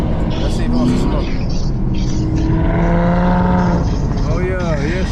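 A Maserati revs its engine on an Atlanta street, heard from inside a nearby Camaro ZL1 1LE, with rising and falling engine tones mixed into steady road and cabin noise while people talk loudly over it.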